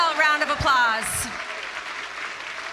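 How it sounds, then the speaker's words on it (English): An audience at a live Dancing with the Stars-style show claps for a group of dancers. The applause is a steady, fairly loud wash, with a voice calling out briefly at the start. "let's give our first round of dancers a huge, heartfelt round of applause"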